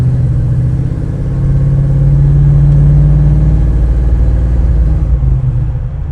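A 1934 street rod with front disc brakes drives along, its engine humming loudly and steadily from inside the cab before the tone eases and drops near the end.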